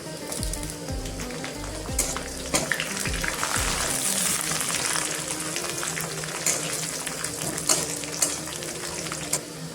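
Garlic sizzles in a hot pan while keema aloo matar is cooked: a steady crackling fry with intermittent scraping stirs and clinks, fairly close and moderately loud.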